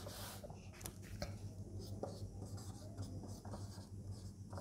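Chalk or marker writing on a board scratches in short, faint strokes with little taps, close against a steady low hum, with no voices over it.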